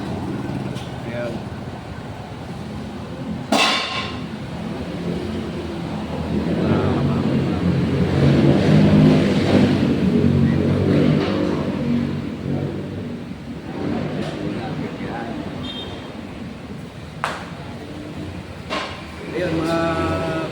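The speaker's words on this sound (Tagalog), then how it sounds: "pasensya na po kayo kasi maingay kasi gilid po ito ng kalsada" Traffic rumbling along a roadside, with cars passing and swelling to a louder engine roar midway, heard continuously under a person talking.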